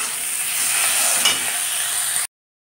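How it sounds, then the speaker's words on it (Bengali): Potatoes with ginger paste, chili powder, turmeric, salt, green chili and chopped tomato fry in a pan, giving a loud, dense sizzle close by that runs steadily and then cuts off abruptly. "আলুগুলোকে ছেড়ে দিয়েছি, আদা বাটা দিয়েছি, লঙ্কার গুঁড়ো, হলুদ, পরিমাণ মতো নুন, কাঁচা লঙ্কা আর টমেটো কুচি কুচি করে কেটে পুরো ফ্রাই করে নিচ্ছি।"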